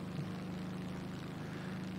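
F4U Corsair radial engine droning at extra throttle in War Thunder, a steady, unbroken propeller hum held at constant pitch and fairly quiet.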